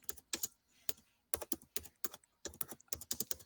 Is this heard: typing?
yes